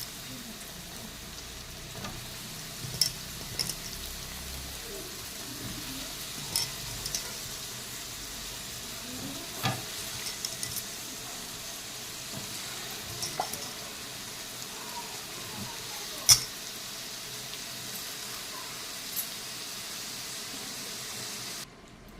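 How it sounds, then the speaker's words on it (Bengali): Soybean chunks fry in a pan with potatoes, a faint, steady sizzle broken by occasional soft clicks and scrapes of stirring, with no voices. "সয়াবিনটাকে আমি ভেজে নিয়ে কাঁচাই দিচ্ছি।"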